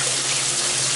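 Hot water running from a shower, a continuous close, loud hiss and splash of water streaming and draining with no pause throughout.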